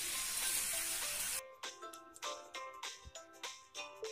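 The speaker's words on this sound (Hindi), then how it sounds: "चिकन को हम अच्छी तरीके से भुनेंगे और इसको अच्छी तरीके से इसको चलाएं ताकि कढ़ाई में ये चिपके नहीं" Chicken frying in a kadhai during masala chicken curry cooking: a loud broadband sizzle for the first second and a half, then a series of stirring scrapes and clinks at an uneven rhythm over quieter frying.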